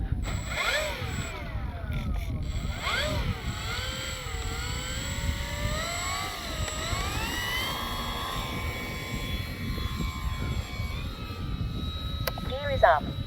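A Dynam Me Bf-109 RC warbird flies overhead with a steady whining electric motor that rises and falls in pitch as it banks, ending with a brief mechanical whir of the landing gear retracting, while someone talks throughout.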